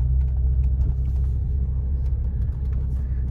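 A BMW M3 E46 engine gives a steady, deep rumble close by, running evenly throughout with no talking over it.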